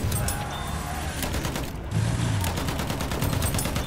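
Sustained machine gun fire in the World War I shooter Battlefield 1 rattles in steady repeated bursts over a noisy battle backdrop, continuous and fairly close.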